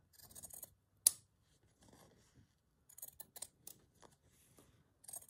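Scissors trimming a piece of vintage linen, with one crisp snip followed by soft scattered cuts and rustles of fabric, close and quiet, with no voices.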